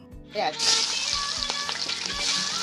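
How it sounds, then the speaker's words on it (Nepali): Onions drop into hot oil for a Nepali village-style fish curry, a loud sizzle bursting up after a moment and then holding as a steady, close crackle with a few stirring knocks. "तेलमा प्याज हालेर जुन चाहिँ मजाले रातो हुने जेल भुटेर"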